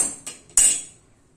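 A few sharp metallic clinks of a spoon against a pot of gram dal pithle, two quick taps followed by a louder ringing strike that fades out, close by.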